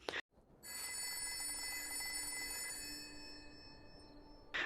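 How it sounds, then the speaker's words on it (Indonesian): A telephone rings during a dinner scene, a steady electronic bell tone sounding for several seconds after a brief pause, moderately quiet against a low background hiss. "ada beberapa kali suara telepon berdering, sehingga membuat mereka canggung"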